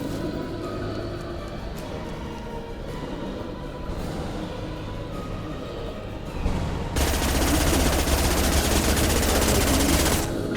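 Sustained automatic gunfire from the video game Mass Effect 2 rattles on without a break, then grows denser and louder for the last few seconds.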